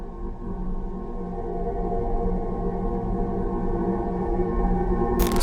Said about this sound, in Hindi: और जुपिटर की आवाज कुछ यूं होती है।